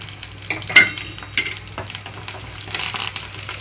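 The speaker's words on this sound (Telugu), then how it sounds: "లో ఫ్లేమ్లో ఉంచి తాలింపు అంతా వేయించుకుంటున్నాను." Tempering of seeds, curry leaves and garlic frying in oil in a pan on low flame for a capsicum chana dal fry, a steady close sizzle with crackles, a sharp pop early on, and stirring scrapes.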